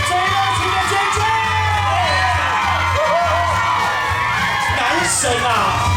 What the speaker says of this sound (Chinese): 谢谢你们， 最热情的尖叫